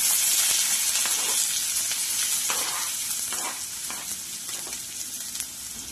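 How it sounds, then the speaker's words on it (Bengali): Chopped onion hits hot mustard oil in a wok, giving a loud, bright, continuous sizzle that eases slightly over several seconds, close up with no talking. "ওই তেলেই কুচনো পেঁয়াজ আমি দিয়ে দিচ্ছি"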